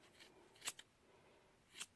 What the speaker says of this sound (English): you're gonna take your scissors